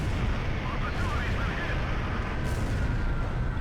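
Bombs from a bombing run explode in the video game Ace Combat Zero, a dense, loud, continuous roar of blasts and rumbling fire with no clear gaps, filling the whole stretch.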